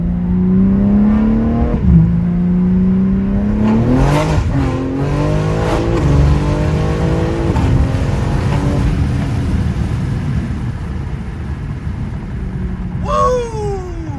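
A BMW M340 fitted with a big turbo pulls hard through the gears, its engine note climbing in sweeps with short breaks at the shifts, loud and close from inside the car on a drizzly road.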